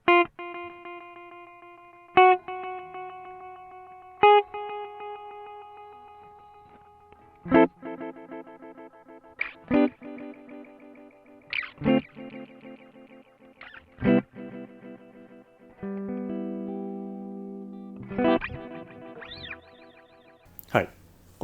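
BOSS RE-2 Space Echo compact delay pedal with the delay knob set to center: short electric guitar notes and chords, each trailed by quieter repeating echoes that fade out, with gaps between phrases.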